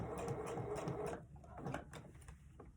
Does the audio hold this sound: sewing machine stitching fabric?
yes